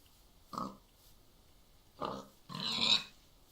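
Short grunting bursts from a Minecraft pig, three of them with pauses between, the last longer and noisier, in an otherwise quiet scene.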